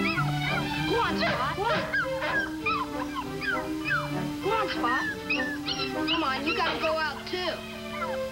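A dog barks, yips and whimpers excitedly on a 1955 television drama soundtrack, mixed with music and overlapping voices throughout.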